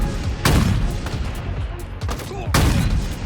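Gunfire in a first-person video game, heard as two dense, loud bursts of rapid shots about two seconds apart, with a lighter crackle of shots between them.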